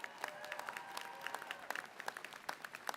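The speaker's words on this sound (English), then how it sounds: "So please, let's give them a round of applause." Applause at a USC Bovard College commencement ceremony for the graduates' family and friends, steady clapping from a large audience, moderately distant, with scattered louder individual claps standing out.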